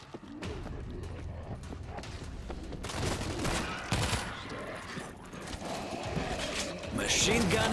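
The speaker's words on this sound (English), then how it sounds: "Machine gun is in place." Machine gun fire in the World War Z video game, dense rapid bursts of shots rattling steadily for several seconds, growing louder and busier midway, mixed with other in-game battle noise.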